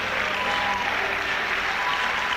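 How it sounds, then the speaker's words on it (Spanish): A church congregation applauds during a Spanish-language sermon, a steady, dense wash of clapping that stays at an even level throughout, with no voices standing out. "Dele un aplauso al Señor."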